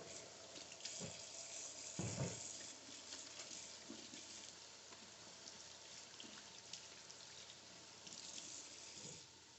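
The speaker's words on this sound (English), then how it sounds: "And I'll wash my hands real quick." Tap water running steadily into a sink while hands are washed, a soft continuous splashing with a few louder knocks and bumps, heard alone at low level.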